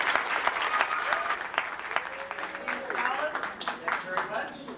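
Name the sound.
applause at a school awards ceremony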